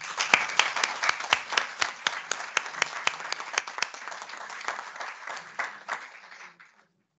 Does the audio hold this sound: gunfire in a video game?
no